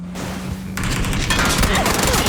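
A rattle of rapid gunfire in the battle royale shooter PUBG erupts after a brief quieter moment and continues as a loud, dense fusillade, with a player's voice faintly mixed in.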